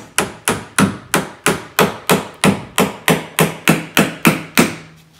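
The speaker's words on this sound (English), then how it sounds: "Hammer this home." Fourteen sharp, evenly spaced hammer blows drive a screw home on a closet door, close and loud, each ringing briefly before the next.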